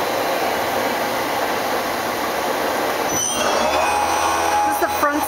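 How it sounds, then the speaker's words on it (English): A Tsugami BS-20B Mark III CNC Swiss lathe with Fanuc control runs a machining program, giving a continuous loud mechanical whir and hiss with a faint high whine, shifting partway through as the spindle and tooling change. "we're going to run it through a program to demonstrate its capabilities"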